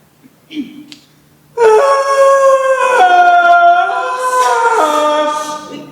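On a fringe festival stage, a voice lets out a long, loud wavering howl imitating a dragon, rising and falling in pitch, after a brief softer vocal sound.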